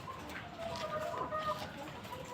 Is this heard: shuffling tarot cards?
no